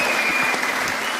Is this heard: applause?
yes